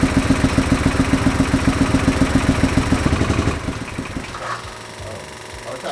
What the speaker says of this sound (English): we did fire the bike up and just give it a little bit of a run whilst it was on the lift